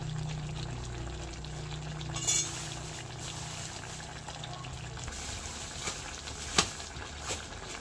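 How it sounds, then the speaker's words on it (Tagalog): Coconut milk pours into a cooking pot that already holds lemongrass, a low steady liquid rush for several seconds that then settles into faint bubbling with a few small clinks, quiet and close. "Nalagyan ko na po ng gata."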